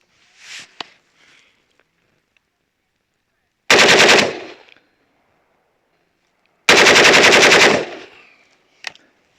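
Two loud bursts of automatic fire from a GROT C16 FB-A1/A2 military rifle, each a rapid rattling string of shots lasting about a second, separated by quiet pauses, with faint handling noises before and a sharp click at the end.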